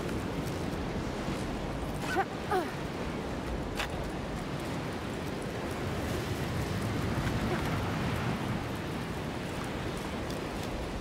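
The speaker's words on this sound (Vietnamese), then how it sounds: "Ê, quên gió đang thổi mà bạn." Wind blowing steadily in the climbing game Jusant, a continuous broad rushing that persists for the whole stretch, with a couple of faint clicks early on.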